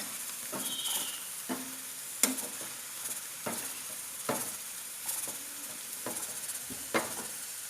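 Kerala-style buffalo beef fry stirred in a pan with coriander powder, a continuous sizzle broken by repeated spoon scrapes and knocks against the pan at a steady, unhurried rhythm, close and fairly quiet.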